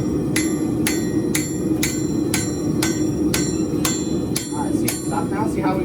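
A hammer rings on hot metal during forging in a shop, a steady series of about a dozen sharp, bright strikes roughly every half second, heard over a loud, continuous low rumble of shop noise.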